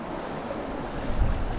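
Wind gusting steadily across a microphone during bass lure fishing in pouring rain, a constant low roar with a slight swell toward the end and no voices.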